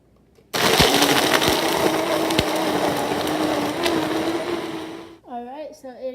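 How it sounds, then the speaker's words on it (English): A kitchen blender whirs loudly and steadily for about five seconds while blending a summer smoothie, switching on abruptly and then winding down, with a voice speaking briefly at the end. "And now We'll get that blended up and we'll be right back."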